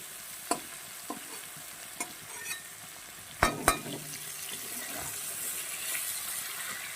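Bitter gourd frying in a pan gives a faint steady sizzle, broken by scattered spatula scrapes and taps, with a couple of sharper clanks midway, close by and quiet.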